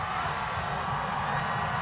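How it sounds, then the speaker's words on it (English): A loud crowd cheers at a high school varsity football game just before kickoff, a dense, continuous roar of voices and shouts from the stands. "That is it's a loud crowd."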